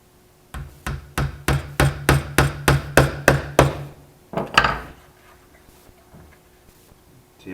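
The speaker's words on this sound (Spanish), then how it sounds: "El martillo, como veis, es pequeño y hay que dar los golpes" A small hammer taps gently, driving nails into the planks of a wooden model ship, about a dozen evenly spaced light knocks in a steady rhythm, a short pause, then two or three more taps, close and clear with no talking.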